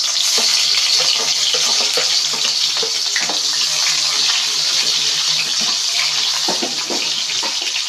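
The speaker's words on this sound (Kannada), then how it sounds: "ಈಗ ಈರುಳ್ಳಿ ಹಾಕ್ತಾಯಿದ್ದೀನಿ" Onions frying loudly in hot oil with mustard and cumin seeds, a continuous crackling sizzle broken by the stirring and scraping of a utensil, with no voices.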